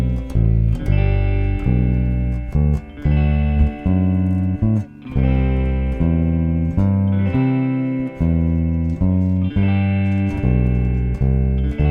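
A bass guitar walks down a scale to G, each note sustained and evenly spaced, loud and alone.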